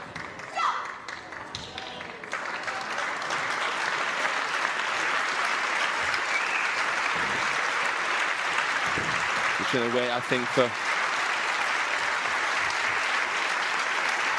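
Audience applause after a women's table tennis match at the Europe Top 16 in 2022: a broad, steady wash of clapping that swells in and holds at moderate loudness, with a commentator talking briefly over it.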